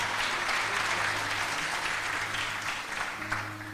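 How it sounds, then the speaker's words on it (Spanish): Church congregation applauding during a sermon, a continuous dense burst of clapping throughout with a faint low hum underneath and no clear speech on top. "Dale un aplauso, dale un aplauso."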